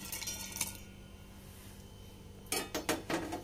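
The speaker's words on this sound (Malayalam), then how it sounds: "ഇതൊക്കെ ഞാനിപ്പോൾ മിക്സിയുടെ ജാറിലേക്ക് ഇട്ട് കൊടുത്തിട്ടുണ്ട്." Roasted tea-recipe ingredients are tipped into a mixer grinder jar, producing a quick cluster of rattling clinks and taps against the jar after a quieter stretch of kitchen background.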